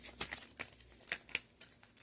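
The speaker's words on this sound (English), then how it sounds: "All right, so shuffling these out." Soft, quick riffling and flicking of a deck of tarot cards being shuffled up close, in uneven short bursts.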